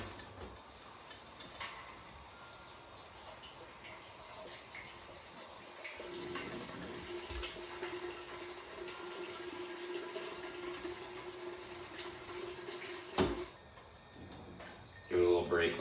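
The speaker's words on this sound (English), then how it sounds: "So I'll go ahead and start filling up my other keg." Liquid running into a homebrew keg, a steady hiss of flow that holds for most of the stretch and thickens midway, with a sharp knock near the end and a brief clatter at the close.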